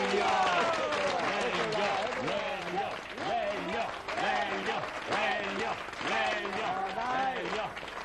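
Studio audience applause at a 1991 Italian television birthday special, a sustained clapping bed running under loud voices that dominate the sound.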